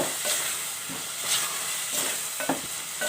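Meat curry (salan) frying in a pot: a loud, continuous sizzle and hiss, with occasional scraping stirs punctuating the steady sound up close.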